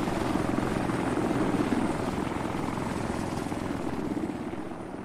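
A helicopter in an Arma 3 video game drones steadily with a rotor chop and engine whine, loud and continuous throughout, with no voices.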